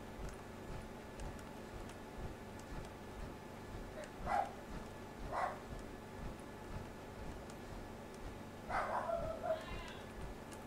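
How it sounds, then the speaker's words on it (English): A dog in Fallout 4 barks a few faint, scattered times, two single yaps and then a short cluster, over a quiet game ambience. "Alright, does my dog always bark?"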